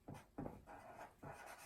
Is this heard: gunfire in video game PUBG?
no